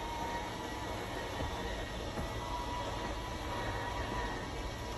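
Low, steady mechanical hum of a Forest River Wildwood FSX RV slide-out motor retracting, running continuously, faint and even throughout.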